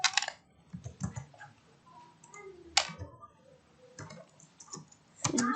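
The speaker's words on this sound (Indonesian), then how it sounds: "Oke, kita ketik scriptnya." Keys clatter in short irregular bursts as JavaScript code is typed on a computer keyboard, with quiet gaps between the runs of clicks, close and fairly soft.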